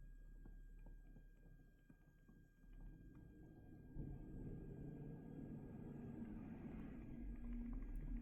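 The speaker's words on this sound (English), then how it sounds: "I have to excuse the garbage truck noises that are going to be happening for the next few seconds." Garbage truck rumbling and grinding outside, a low, steady engine drone that swells louder after a few seconds and keeps going without any talk.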